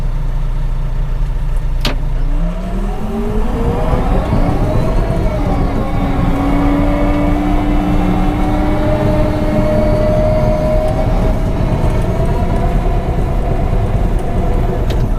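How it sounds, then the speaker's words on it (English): A small bulldozer working against a 25-ton pile of dirt, its diesel engine droning loud and close, pitch climbing as it bears down and strains under the load, with steady mechanical rumble throughout. "here's a 25-ton load of dirt. We'll see what this little dozer can do with it"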